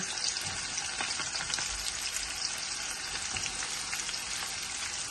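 Onion and bay leaves fry in a pan, giving a dense, continuous sizzle and crackle that stays close and even throughout, with occasional stirring scrapes.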